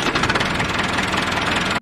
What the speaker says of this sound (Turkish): Traktör sürüyor.